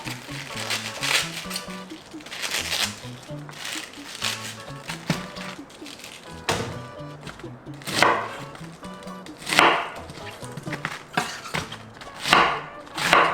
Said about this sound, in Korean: 먹기 좋게끔 썰어 주시면 돼요.